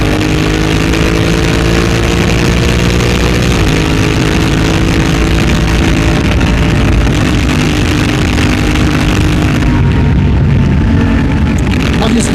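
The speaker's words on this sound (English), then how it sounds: "I just love that sound of the exhaust." Loud motorcycle exhaust roars continuously while riding a straight open road, a steady engine drone with shifting harmonics and heavy wind rumble throughout.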